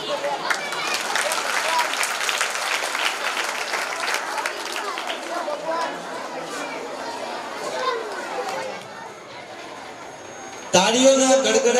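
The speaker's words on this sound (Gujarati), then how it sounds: "ખૂબ તાળીઓના ગડગડાટથી વધાવીએ," Applause and crowd noise at a school prize ceremony, with students and parents clapping amid chatter and children's voices. The sound thins out toward the end before a sudden louder burst.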